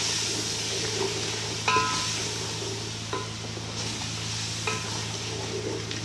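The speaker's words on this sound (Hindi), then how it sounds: "नमक और ये हमारा चिकन पाउडर, सबको अच्छे तरीके से मिक्स करेंगे" Chana dal and spinach with salt and chicken powder, stirred in a pot over a steady low simmering hiss, with a few soft utensil knocks against the pot.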